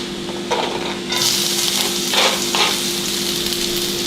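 Zucchini spaghetti frying in hot oil, a close, loud crackling sizzle that swells as food is stirred in, with a few bursts of scraping and no talk.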